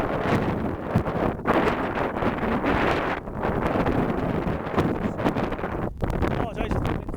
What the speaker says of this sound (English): I apologize if the wind's pretty strong